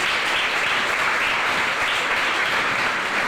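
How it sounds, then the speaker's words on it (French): Loud, dense applause from the public at a careers fair, honouring the Haïti Tech team, a continuous wash of clapping at full strength from start to finish. "je demande au public de l'applaudir très très fort"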